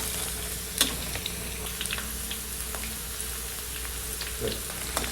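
Tofu pieces deep-frying in hot oil make a steady, faint sizzle with scattered crackles and pops, heard alone at close range.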